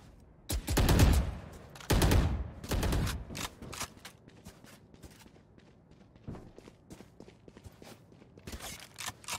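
Gunfire in a competitive Valorant match: a few loud sustained bursts early on, then scattered single shots and clatter over quieter stretches, with footsteps in between.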